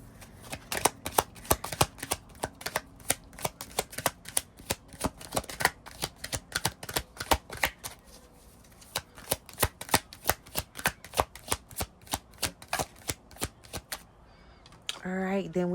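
Tarot cards shuffled and pulled in close, rapid rhythmic bursts of flicking and slapping that run steadily for most of the stretch, ending with a short moment of speech.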